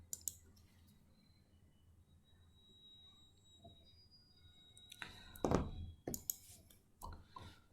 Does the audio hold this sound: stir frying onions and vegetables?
no